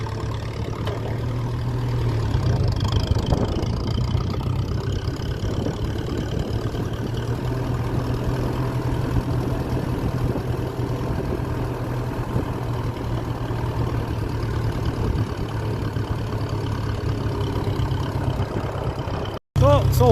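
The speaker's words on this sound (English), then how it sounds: "Climbing up a few hills. I'm letting the engine labour a bit" A 1957 Ferguson 35 tractor running on TVO labours uphill with a steady, close, low chugging drone that holds for the whole stretch with only slight surges, and the rumble carries on without a break.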